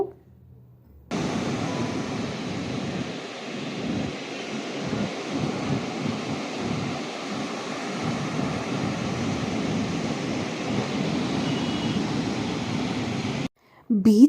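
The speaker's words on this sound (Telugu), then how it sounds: "పిచ్ అలల సౌండ్ భలే సూదింగ్గా ఉండిద్ది కదా" Ocean waves on the beach at Vizag, a broad rushing roar of surf that swells and recedes in uneven surges, close and fairly loud, starting and stopping abruptly.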